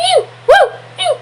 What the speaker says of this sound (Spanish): Un perrito chiquitico, un pequiné.